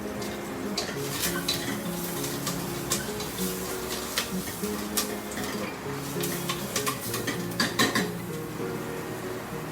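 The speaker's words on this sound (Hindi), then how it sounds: "तो अब हम इसके साथ पहले तड़का देते हैं." Pan clatter and utensil stirring over a steady sizzle of spices, red chili and turmeric tempering in hot oil for dal, close up, with intermittent metallic clinks throughout.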